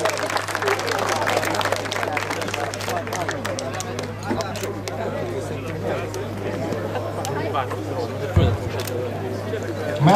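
Scattered clapping and crowd chatter for the second-division E2 category riders at an endurocross race in Szandaváralja, a steady, mid-distance wash of applause lasting throughout over a constant low electrical hum.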